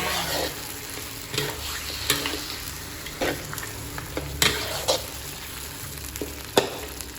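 Pork bones stir-fried in a wok for a spicy southern Thai stir-fry, oil spattering: a steady close sizzle broken by repeated sharp clacks of the spatula against the pan, no talking.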